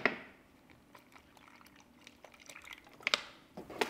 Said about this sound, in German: Und da kommt jetzt einfach Wasser rein.